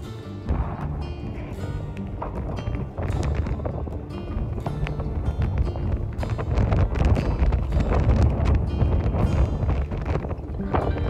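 Strong winter wind buffeting a phone microphone aboard a liveaboard boat, loud, continuous rumbling roar with gusty crackles throughout.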